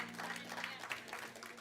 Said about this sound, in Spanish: Denle ese aplauso al Espíritu Santo.